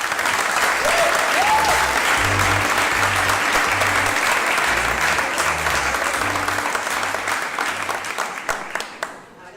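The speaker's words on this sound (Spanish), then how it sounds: "La recibimos con un fuerte aplauso." A talk audience gives sustained, loud applause welcoming the first speaker, a UX design lead, at a storytelling event; dense clapping runs steadily before tapering off in scattered final claps.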